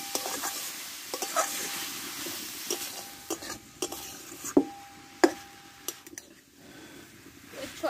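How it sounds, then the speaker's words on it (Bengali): Cabbage being stir-fried in a pan with coffee-soaked ingredients for a dried cabbage dish with hilsa fish head, soft continuous sizzling under repeated scraping and clanking strokes of a spatula against the pan. "সব শুধু একসঙ্গে এবার কষতে থাকবো।"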